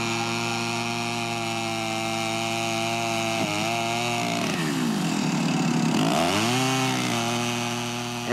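Chainsaw cutting trees in a forest, a loud, continuous engine whine that holds steady and then dips and rises in pitch as the blade bites into wood, with no voices.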